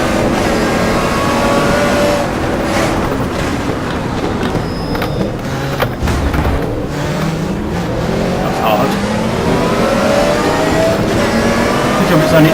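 Racing car engine in the GTR Evolution game, loud and continuous, revving hard with pitch sweeps climbing and dropping at each gear shift, under a speaking voice.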